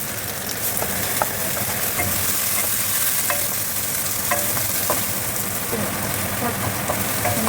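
Onion and garlic frying in a pan for Filipino-style kaldereta: a steady, loud, close sizzle runs throughout, with light clicks and scrapes of stirring and no talking.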